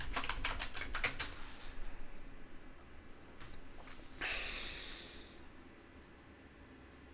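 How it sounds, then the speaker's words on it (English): Someone types on a computer keyboard during a Bot Land gaming session. Bursts of quick, close, fairly soft key clicks come in short flurries with pauses, and there is some faint breathing. "Oh man, I can't type."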